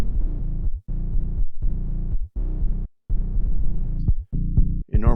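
Thumpy bass synthesizer sound, with heavy low throbbing notes in steady pulsing phrases separated by brief pauses, loud and upfront with no talking.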